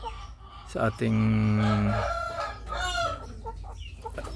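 Brahma chickens sound off close by: a long sustained rooster-like crow, then softer clucking and chick peeping, with a person speaking faintly in the background.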